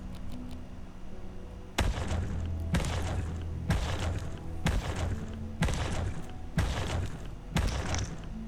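A crowbar chopping at a body in the video game Abiotic Factor, landing as seven evenly spaced heavy thuds about one second apart, loud and close, with no talking.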